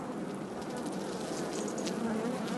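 Honey bees buzz at a hive as they fan their wings over nectar, a dense, continuous hum of many insects close by, steady and even throughout with no talk.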